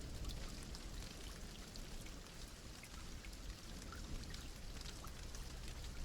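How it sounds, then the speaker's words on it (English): Steady rainfall in the video game Know by Heart, a soft, even hiss of drops pattering on surfaces with occasional brighter taps, faint and continuous with no speech. "No reason to stand in the rain."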